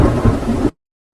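A cartoon storm gives a loud, short roar of thunder and heavy rain that stops abruptly after under a second, leaving silence.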